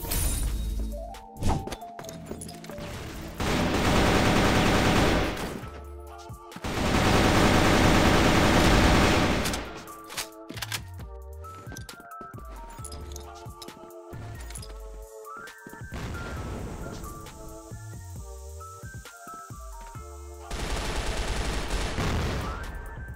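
AK-47 fire in the online shooter CrossFire, heard as several long, loud automatic bursts separated by pauses, mixed with sharper single shots, impacts and game effects; no talking.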